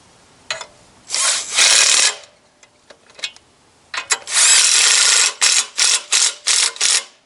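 A power tool tightens clutch bolts on a Jeep Wrangler 2.5/4.0 engine during a rebuild, firing in loud close bursts, one long run, then a series of short repeated pulses.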